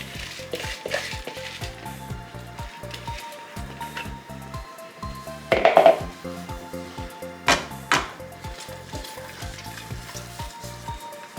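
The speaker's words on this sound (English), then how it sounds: "now I'm gonna turn in the rice" Rice is stirred into a pot of bubbling jollof sauce with a steady sizzle and repeated scraping strokes of a spoon against the pot, plus a few louder clanks around the middle.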